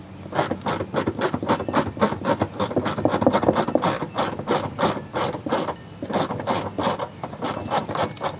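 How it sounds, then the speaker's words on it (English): A screwdriver-bit ratchet removes front bumper screws on a 2013-2017 Honda Accord, giving a close, loud, steady run of rapid ratcheting clicks with a brief pause midway. "This is a screwdriver bit ratchet, and this is a special right angle screwdriver."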